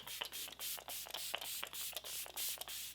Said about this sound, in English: I'm gonna use the Flower Beauty Seal the Deal Hydrating Setting Spray.